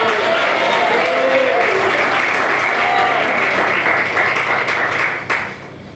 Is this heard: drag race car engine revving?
no